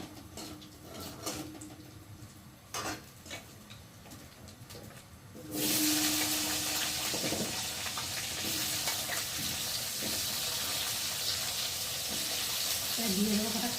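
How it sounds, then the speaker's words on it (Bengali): Cut potatoes with green chillies dropped into hot oil in a pan, a sudden loud, steady sizzle that starts partway through after quieter kitchen clatter and continues to the end. "দিয়ে দেবো কটা কাঁচা লঙ্কা, দিয়ে আলুটা ভালো করে লাল লাল করে ভেজে নেবো।"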